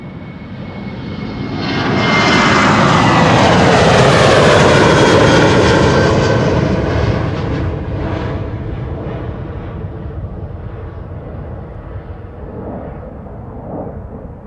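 A KLM Boeing 737-800 jet airliner, registration PH-BXH, roars loudly as it passes close by at Schiphol Airport, its engine noise swelling to a peak and then easing into a steady fading rumble, with no voices.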